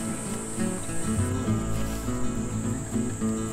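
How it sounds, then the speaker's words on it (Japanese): Cicadas sing in a mountain forest in summer, a continuous high shrill buzz with pulsing, overlapping insect calls, moderately near and steady throughout, without talk. "蝉の鳴き声がええね。"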